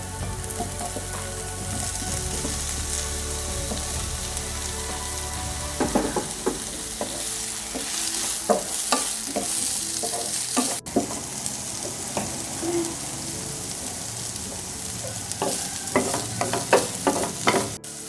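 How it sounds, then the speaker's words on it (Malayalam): Boiled potatoes being stir-fried with cumin seeds in a pan for a potato roast, giving a steady sizzle with repeated scraping and stirring clatter from a utensil, close and fairly loud, with no one speaking. "ഇനി നേരത്തെ ബോയിൽ ചെയ്ത് വെച്ച പൊട്ടാറ്റോ ചേർത്ത് കൊടുക്കുക."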